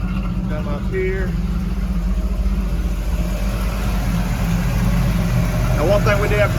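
A Chevy 350 crate engine with a 110 LSA cam idles inside a garage in a 1986 IROC-Z, giving a steady, loud, low, lumpy rumble, with a few faint chirps from another source over it.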